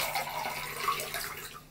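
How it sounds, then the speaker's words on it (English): Water is poured back into a Supreme Pyrex glass measuring cup: a steady splashing, trickling pour lasting under two seconds, close by and moderately loud, with no speech. "I'm gonna pour this back in here and measure this again."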